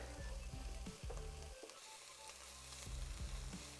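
Onions and garlic soften in a pan for an octopus stew, giving a steady, close sizzle with a few sharp stirring clicks of a utensil against the pan, and no voice.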